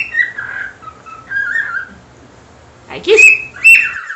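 Cockatiel, a male, whistling short melodic notes and tweets close by, a few phrases with a pause before louder whistles near the end, a brief voice mixed in.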